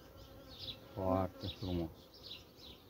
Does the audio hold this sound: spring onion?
no